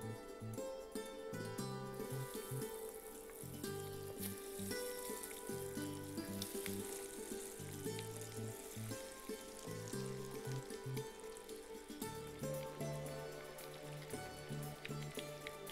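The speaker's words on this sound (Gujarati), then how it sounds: "હવે તળી લઈશું." Tikki patties fry in hot oil, giving a steady bubbling sizzle that runs throughout at moderate, even loudness.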